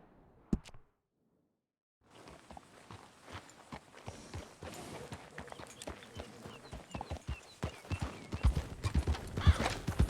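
Hooves clip-clop on hard ground in Red Dead Redemption 2 after a brief silence, the steps quickening and growing louder as the horse moves along.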